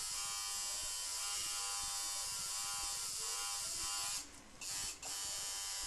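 Tattoo machine buzzing steadily and close while shading with the side of a needle grouping, a constant electric hum with a quick rhythmic pulse, briefly dipping twice near the end.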